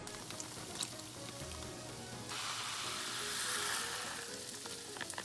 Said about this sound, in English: Oh, it's boiling.